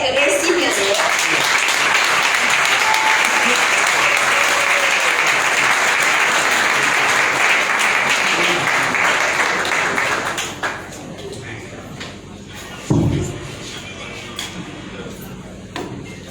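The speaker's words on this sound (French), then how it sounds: "nous allons vraiment mettre du feu dans cette salle avec des applaudissements pour tous les récipiendaires" At a tribute ceremony for award recipients, a room full of people applauds loudly and steadily for about ten seconds before the clapping thins out, with a knock or bump and some scattered voices in the quieter stretch afterward.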